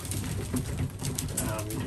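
Racing pigeons coo steadily inside a loft, a low, continuous murmur of overlapping bird calls with faint rustling throughout, fairly close and without pauses.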